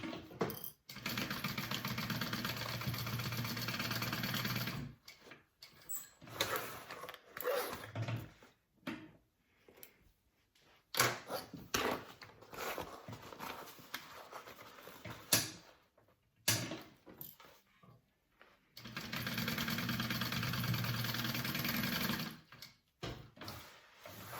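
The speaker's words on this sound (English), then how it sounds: "I'm going to go ahead and sew my corners up" A sewing machine stitches the lining corners of a fabric pouch in several bursts of steady mechanical whirring, broken by quiet pauses and small handling clicks, with a long run at the start and another near the end.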